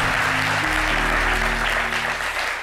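A studio audience claps in a steady, dense wash of applause for a guest musician on a music show, with a low hum running underneath.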